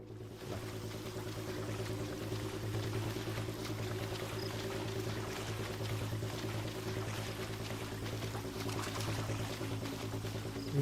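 A waterfall in the game Fable 2 gives a steady, faint rushing and pouring of water. The sound stays even throughout, under a low constant hum.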